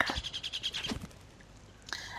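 Little bird character in the video game Rayman Raving Rabbids, a quick run of high, bright chirps over the first second, fairly close, followed by a short burst near the end, with no voices.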